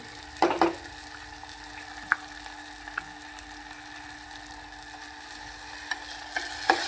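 Ginger-garlic paste frying in oil for a spicy chicken curry, a steady soft sizzle from the pan with a few sharp utensil taps and stirring knocks.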